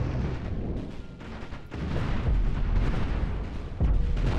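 Missiles and ship weapons firing in the space game Cosmoteer, a dense, continuous barrage of booms and bursts with a fresh loud volley near the end, no voices.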